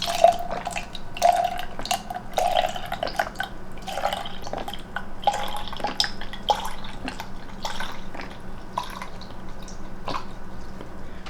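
Breast milk trickles out of a tipped Paruu P10 wearable breast pump cup in a series of small splashes and dribbles, close and fairly clear, then tapering into softer intermittent drips.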